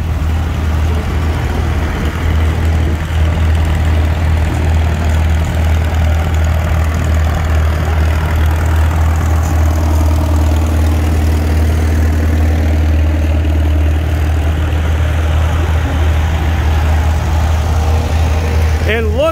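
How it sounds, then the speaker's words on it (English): Heavy antique tractor engines idle and chug with a low, steady rumble at a parade, close and loud, while people talk faintly in the background. "And look at all the tractors."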